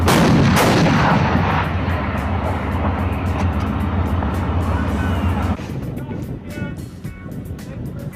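Tank main guns booming during a Canadian–US tank gunnery challenge, a loud blast at the start followed by continuous heavy rumbling and further distant reports, with faint voices underneath.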